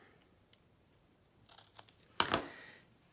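Scissors cut apart a paper leaf shape for a handmade floral card, with a few faint snips followed by a louder, close crunching cut near the end in a quiet room.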